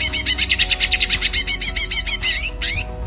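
A bright, loud green leafbird song of rapid repeated whistled notes in a quick rhythm, ending with a couple of sweeping phrases, heard close and alone.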